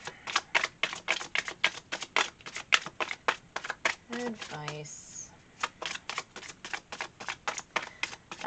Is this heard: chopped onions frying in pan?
no